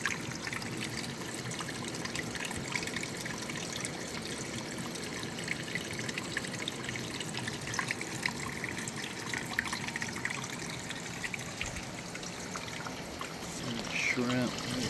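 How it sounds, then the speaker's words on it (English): Water flowing steadily in a creek, a continuous close wash and trickle that holds at an even level throughout with no pauses. "Get down here and see the water's flowing nicely."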